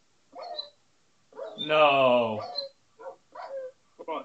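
A dog gives short yelping barks and a drawn-out whining cry, close by, between bursts of people talking.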